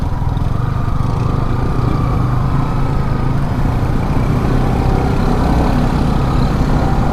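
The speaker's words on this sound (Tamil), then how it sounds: "இங்கே இவ்வளோ டிராஃபிக் ஜாமு." Steady, loud engine drone from vehicles stuck in a traffic jam on the road up to Nandi Hills near Bangalore, a dense continuous rumble with no breaks and no talking.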